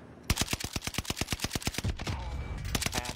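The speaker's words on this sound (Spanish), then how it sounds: "disparando a todos tú, loco" Rapid bursts of submachine gun fire in a video game, a steady string of about twenty sharp evenly spaced shots that stops, followed by lighter clatter and game noise.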